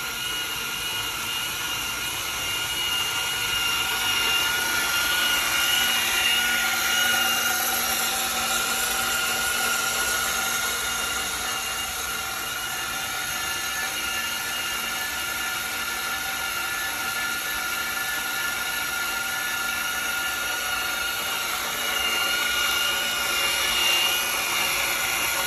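An AXXAIR pipe and tube saw cuts tubing with an automatic rotation, keeping up a continuous, even, high-pitched machine whine and hum that holds steady for about twenty-five seconds without pause.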